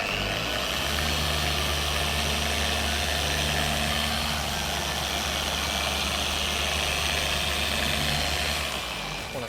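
A 5-inch car polisher runs steadily at close range with a continuous motor whine and low hum, cutting compound on a car's paintwork in a garage, with no break and no talk over it.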